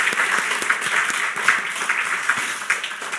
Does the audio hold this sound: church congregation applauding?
yes